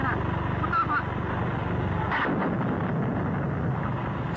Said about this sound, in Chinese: 枪炮声啊，喊杀声啊，